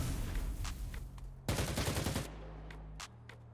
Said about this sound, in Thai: เมื่อกี้ใครยิง